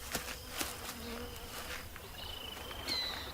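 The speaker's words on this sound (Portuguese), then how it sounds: "A terra enche-se do zumbido de asas." Insect wings buzzing in an arid Brazilian backcountry landscape, a steady droning hum from several insects with occasional closer passes and faint clicks.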